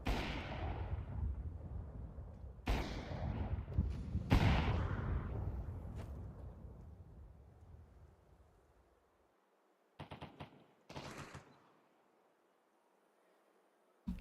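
A flashbang grenade goes off in the Roblox shooter Phantom Forces: a loud, close blast with a long fading ring, a few sharp bangs inside it, then short bursts after a near-silent gap.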